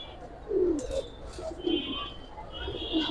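Silver pangkhi military and coloured pigeons coo in short, soft, throaty bursts, several calls overlapping close by, with faint chirps and rustling around them.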